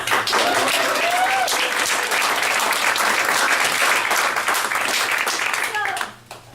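Lively audience applause at a conference presentation on dietary therapies, dense clapping with a few voices calling out, sustained for about six seconds before quickly dying away.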